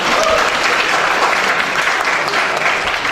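An audience at a seminar applauding, dense steady clapping from a crowd that holds at an even level throughout.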